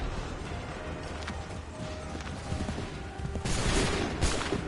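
Musket volley fire in the Assassin's Creed 3 Remastered video game: a low, rumbling background erupts near the end into a louder burst of massed gunfire, with no talking.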